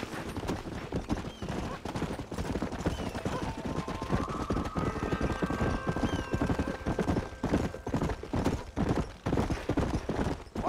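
Horse hooves clip-clop steadily under a rider in a Red Dead Redemption game scene, close and continuous, with a horse whinnying and a layer of music and ambience beneath.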